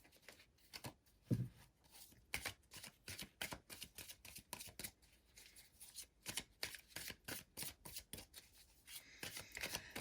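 Tarot cards being shuffled by hand during a pick-a-card reading, a steady run of crisp riffling and flicking bursts, close and fairly quiet, with no talking.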